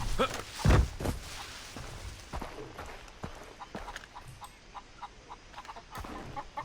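Chickens cluck in the game Far Cry 3 among scattered footsteps and small in-game noises, with the brief calls repeating faintly through the whole stretch.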